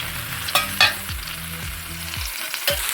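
Dried fish thokku sautéing in a pan with tomatoes, a loud close sizzle broken by several distinct scraping stirs and clanks of the spoon against the pan, no voices.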